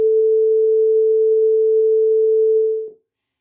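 A pure sine wave tone holds steady at one pitch for about three seconds, loud and unwavering, then cuts off abruptly with no voices around it.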